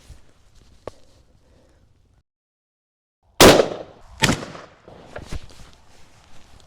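A 300 Blackout rifle round fired at gas station plexiglass: one sharp, loud near blast followed by a quick second report and a few fainter cracks and thumps as the echoes die down.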